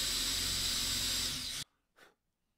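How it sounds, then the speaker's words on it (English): A power drill boring holes straight through a flame maple and zebrano guitar body from the top, a loud, steady whine that cuts off abruptly, followed by a brief faint blow or puff of air. "I'll do what I always do, which is drill them all the way through from the top"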